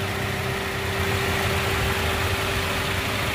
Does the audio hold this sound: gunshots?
no